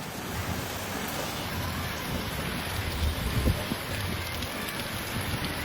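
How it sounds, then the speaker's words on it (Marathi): Dense, steady hiss of a sudden heavy rain pouring down in a village, continuous and broadband, with a slight swell of rumbling noise midway. "पाऊस अचानक जोरदार पडत होता बघा"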